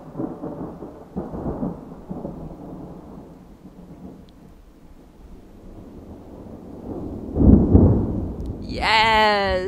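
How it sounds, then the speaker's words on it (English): Low rolling thunder rumbles in a mossy forest, building into a louder deep boom near the end, with faint outdoor ambience and a brief rising whistle-like sound at the close. "and there's thunder."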